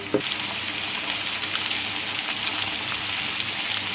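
Mutton pieces fry in a pan on a medium flame, giving a steady, dense sizzle that holds close and even from start to finish, with no voices.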